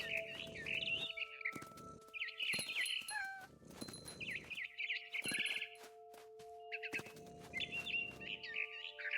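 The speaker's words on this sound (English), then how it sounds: "I heard chirping outside my window. It was a barn swallow going back to her nest." A barn swallow chirps in the video game What Remains of Edith Finch, giving bursts of bright, high twittering calls separated by short pauses, close and clear.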